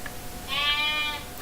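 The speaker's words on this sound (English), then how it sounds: "we have a baby lamb right outside this room" A baby lamb outside the room gives a single short, wavering bleat, faint and somewhat distant over a steady background hiss.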